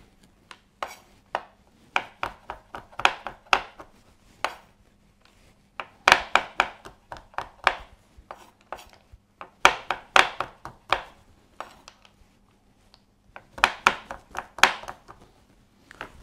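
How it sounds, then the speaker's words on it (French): A knife chops chocolate on a board in quick bursts of sharp, close taps, pausing briefly between clusters of strokes, with no voices. "je vais terminer de hacher mon chocolat"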